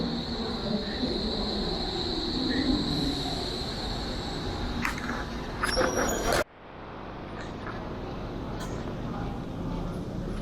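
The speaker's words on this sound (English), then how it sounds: "Here it comes, an East German train." An old East German train pulls into a station in Berlin, its wheels squealing and rumbling, then it cuts off abruptly to quieter ambient noise.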